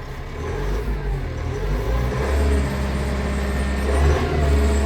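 Massey Ferguson 2850M 4WD tractor running at about 540 PTO revs, a steady, smooth low engine drone, close and even, with no talk over it.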